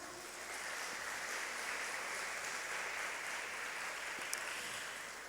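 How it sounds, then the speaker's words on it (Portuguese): A church congregation applauding the Lord during a worship service: broad, sustained clapping from many hands rises and holds evenly for several seconds at a moderate distance. "Você pode aplaudir o Senhor?"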